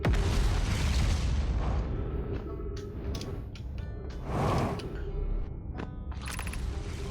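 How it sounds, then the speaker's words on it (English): A gravity cannon rumbles in the space exploration game Outer Wilds: deep booming, mechanical swells with bursts of hiss and clanking accents, fairly loud and continuous with no voices. "That's definitely a gravity cannon."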